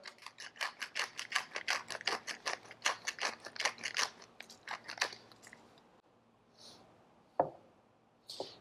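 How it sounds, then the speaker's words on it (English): Fresh black pepper ground in a pepper mill produces a rapid series of close, crisp crunching clicks for several seconds, then a few scattered knocks and quieter handling sounds. "Some fresh ground black pepper."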